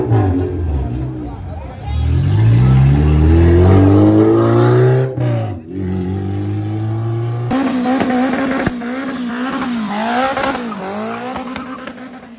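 A turbocharged all-wheel-drive car roars at a night drag race at a Jamaican racetrack, its engine revving loudly with rising and falling pitch through repeated surges.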